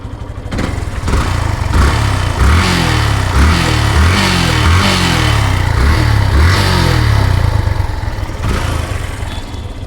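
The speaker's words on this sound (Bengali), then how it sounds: "গাড়িটা আমরা সাউন্ড দেখে আসবো" A used Yamaha Fazer V2 motorcycle engine runs steadily close by, a loud, continuous throbbing idle with a slight rise in revs partway through and no talk over it.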